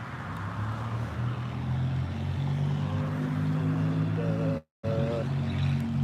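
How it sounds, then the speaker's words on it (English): A loud car engine drones close behind someone walking along a street, with a sustained low roar and tonal hum that holds steady before briefly cutting out. "loud car behind me."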